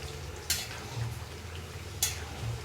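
A spoon stirs a meat curry in a pan after a cashew and raisin paste is added, with a soft continuous sizzle and two sharp scraping clinks against the pot, close by and with no talk.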